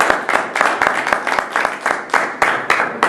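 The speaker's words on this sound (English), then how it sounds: "Let's give our panelists a round of applause." An audience applauds panelists at the close of a club planning Q&A session, with a short burst of steady, fairly close hand clapping that rises and falls in loose pulses throughout.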